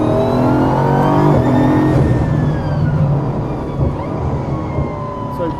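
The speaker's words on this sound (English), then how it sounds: "this car produces a frightening amount of torque whenever you give it full throttle" A powerful, high-torque car engine under full throttle on a race track, a loud sustained roar with rising and shifting harmonic tones as it accelerates, steady and close throughout.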